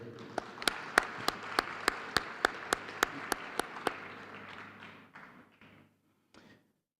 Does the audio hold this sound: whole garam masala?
no